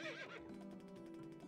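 Horse neighing in the RPG Maker game Thorne: Death Merchants, a single fairly quiet whinny with a wavering, descending pitch and a faint clop at the start.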